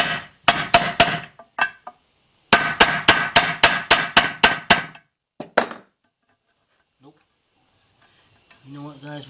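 A hammer strikes a socket to seat a timing chain part on a GM engine, two quick bursts of rapid sharp metallic blows with short pauses, then a few faint taps; a voice speaks briefly at the end.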